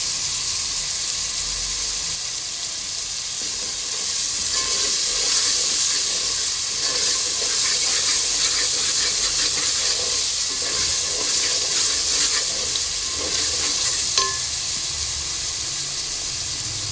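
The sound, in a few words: chickpeas being fried and stirred in a pan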